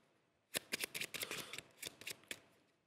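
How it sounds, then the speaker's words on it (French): Deck of playing cards riffled and shuffled by a stage magician, a close, crisp burst of rapid flutters and slaps in quick clusters lasting about two seconds, with no talking over it. "je mélange les cartes"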